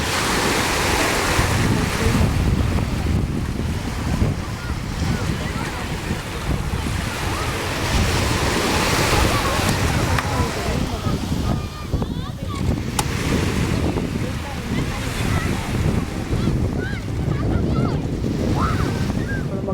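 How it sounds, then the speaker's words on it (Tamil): A boat moving on the sea off Muthu Nagar Beach in Thoothukudi, with a steady wash of waves and wind roaring across the microphone throughout, constant and fairly loud. "போட்டு மூவ் ஆகுது"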